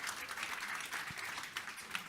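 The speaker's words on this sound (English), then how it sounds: "Round of applause," Faint, distant applause from an audience after a talk on food quality, a soft steady patter of clapping lasting about two seconds.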